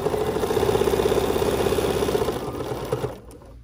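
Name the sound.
sewing machine stitching fabric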